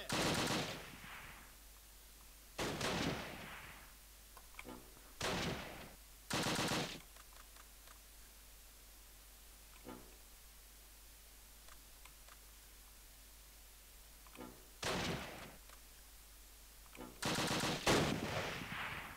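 Scattered machine gun and rifle bursts from a Close Combat World War II tactics battle, several short sharp volleys separated by quiet gaps, moderately distant and fairly faint.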